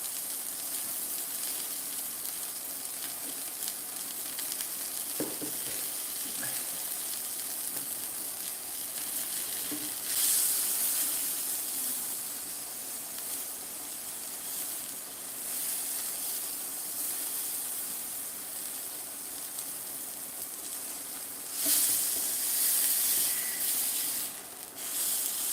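Steak sears in a pan, a constant soft hiss and sizzle throughout with a few louder swells of spitting fat and occasional faint clinks.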